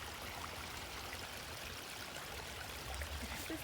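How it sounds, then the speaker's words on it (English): A small woodland stream flowing beside a hiking trail near a little waterfall, a steady, even wash of trickling water that stays constant and fairly close throughout, with no voices. "it's just kind of this little stream that we have going on"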